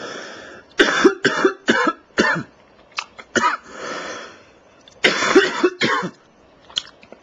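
A man coughs repeatedly up close, loud harsh bursts in uneven clusters with short gaps between.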